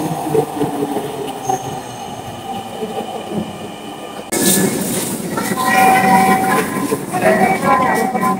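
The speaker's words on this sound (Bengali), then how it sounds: "ট্রেন চলে এসেছে।" A Dhaka metro rail train pulls into Uttara Diabari station, a low rolling rumble that turns suddenly louder with screeching wheel squeals and a hissing rush as it arrives close by, with faint voices in the background.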